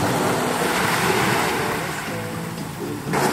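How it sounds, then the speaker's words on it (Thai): Ocean waves wash onto an island beach in the morning, a steady loud roar of surf mixed with wind buffeting the microphone, continuous throughout with a fresh surge at the end. "บรรยากาศเสียงคลื่นในยามเช้านะครับ"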